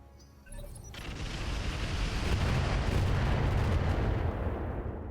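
Missile impacts pound a mech in the RogueTech game, one sharp hit followed by a loud, sustained rumbling barrage of dense explosions that swells and holds.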